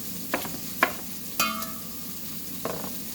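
Steak frying in a pan gives a quiet sizzle broken by a few distinct stirring scrapes and clatters, close and sparse, with no talking.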